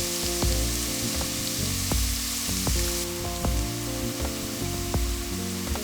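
Bacon and leeks fry in a pan with a steady broadband sizzle, punctuated by regular clicks and scrapes of a utensil against the pan, with no voices.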